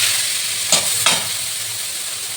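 Potatoes fry in a pan for chow mein, a steady close hiss of oil running throughout, broken by two brief stirring scrapes of the spatula.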